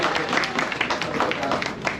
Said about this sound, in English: So big clap for Mary.